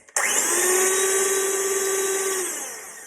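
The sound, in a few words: loud electric whisk whisking egg whites for pavlova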